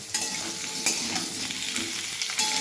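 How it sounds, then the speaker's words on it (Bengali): Vegetables fry in white oil for a chicken stew, sizzling loudly and continuously up close with periodic stirring clatters in the pan. "তো সবজিগুলোকে একে একে আগে ভেজে তুলে নিই"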